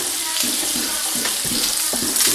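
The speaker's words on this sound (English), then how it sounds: "Getting a nice little brown sear on these things" Shrimp searing in butter in a hot pan give a loud, dense, steady sizzle up close, with a few soft knocks of the pan or utensil underneath.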